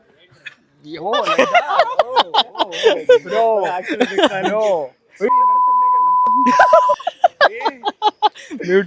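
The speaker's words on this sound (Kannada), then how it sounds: "ಮ್ಯೂಟ್ ಬೀಪ್ ಸೌಂಡ್ ಹಚ್ಚಿ ಬ್ರೋ" A steady, flat electronic beep holds for nearly two seconds, cutting across lively talk and laughter that resumes right after it.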